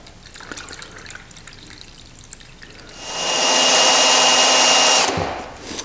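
Liquid being poured into a paint mixture while renovating a room: soft handling noises at first, then a louder, steady rushing pour that lasts about two seconds and stops abruptly, followed by quiet.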